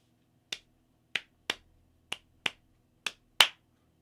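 Seven crisp finger snaps ring out alone in a quiet room at a steady, shuffling pace, each short and close, keeping time for a beginner blues guitar 12-bar shuffle.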